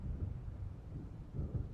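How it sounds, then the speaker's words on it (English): A thunderstorm in the video game Alan Wake Remastered, heard as a low, soft rumble of distant thunder that rolls and swells quietly near the end with no voices. "It seems there's a storm coming."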